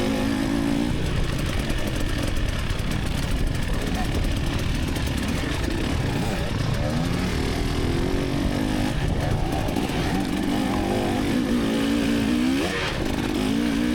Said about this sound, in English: We're riding the 24 KTN 300XCW today.